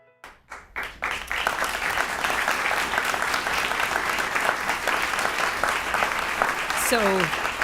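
Audience applause for retired astronaut Scott Kelly at an all-hands gathering, a few scattered claps building within a second into sustained, dense clapping from a large crowd, with a brief voice near the end.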